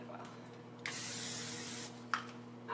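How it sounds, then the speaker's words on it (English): A single continuous hiss of coconut oil spray coated onto a regular 9 by 11 baking pan, lasting about a second, close and quiet, with faint clicks before and after. "You don't have to spray anything on it, but I do."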